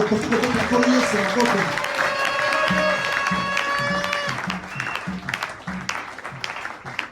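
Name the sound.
congregation applauding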